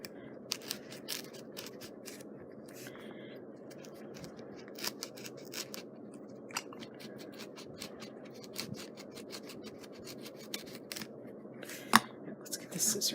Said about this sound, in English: Let's get the scissors in here.